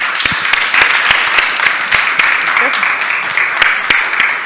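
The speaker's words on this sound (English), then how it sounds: "let's give him another round of applause" A crowd at the Transform Westside Summit gives a speaker another round of applause, a loud, sustained wash of many hands clapping close by, with some voices mixed in throughout.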